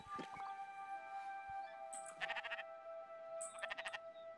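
A sheep in the video game Spiritfarer gives a few short bleats over soft ambient game music, two clear bursts of wavering calls standing out against a sustained background tone.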